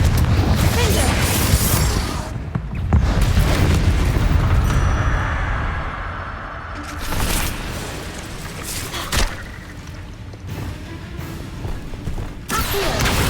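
Spell blasts from a Hogwarts wizarding video game boom and crash in dense bursts, with impact thuds and crackling debris rolling through the mix and a few sharper hits standing out near the end.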